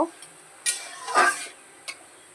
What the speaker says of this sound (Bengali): মাছটাকে একটু ছেড়ে দেবো এর ভেতরে একটু নাড়াচাড়া করব